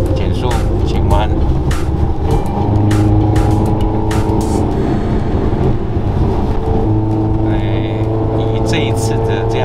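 A Zhonghua Veryca A210 or Toyota Town Ace automatic van carrying an 850 kg load accelerates steadily up a continuous slope, its engine droning loud and constant with road and wind noise, while a person talks over it.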